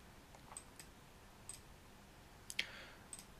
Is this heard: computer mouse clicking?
yes